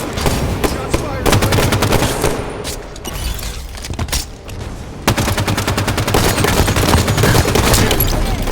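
Dense automatic gunfire rattles through a Halo 5: Guardians multiplayer match, loud and nearly continuous with sustained bursts and sharp reports, easing briefly in the middle before resuming at full intensity.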